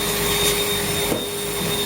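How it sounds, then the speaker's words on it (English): A Morphy Richards hoover vacuum cleaner runs with a steady, loud, continuous whine and airy roar, close by, with no voices over it. "It'll do the trick for hoovering the car or something"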